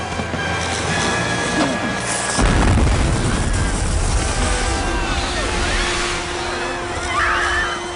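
Fireworks display erupting at an outdoor festival in a horror film, with a sudden heavy boom followed by rumbling bursts and whistling crackles under a busy soundtrack.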